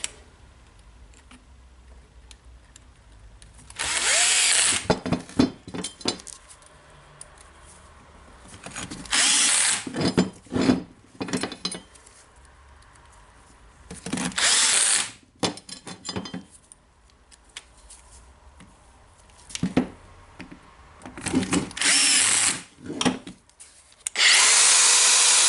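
Makita DGA506 18V brushless angle grinder spinning up in several separate bursts, each a loud, close, high whine lasting one to three seconds, with quiet pauses and light handling noise between runs.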